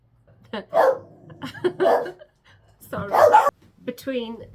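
A dog named Rue barks and whimpers in short bursts close by, mixed in with a nearby speaking voice and pauses between the outbursts.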